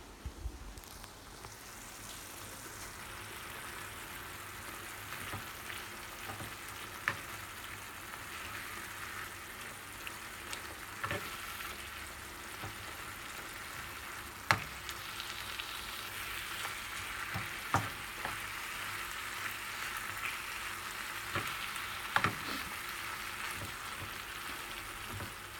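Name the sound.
food cooking in a pan for Lithuanian Christmas Eve dishes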